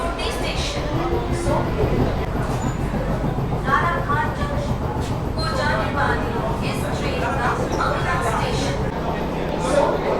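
An inaugural AC local train on the Sealdah to Ranaghat run pulls out of Dum Dum Junction, heard from inside the coach as a constant rolling rumble with passengers' chatter murmuring throughout.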